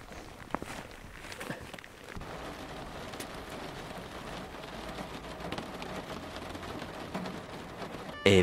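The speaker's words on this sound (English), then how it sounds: "It's still raining a little bit" Steady rain falls outdoors after a passing storm, a continuous close hiss with scattered patter and a few soft thuds, no voices.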